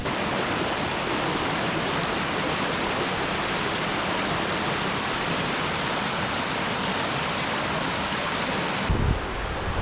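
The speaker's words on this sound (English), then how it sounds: "Check out this waterfall here." Waterfall beside a river in the Lake District, a steady, loud broadband rush of falling water that holds constant throughout, ending with a brief low thump near the close.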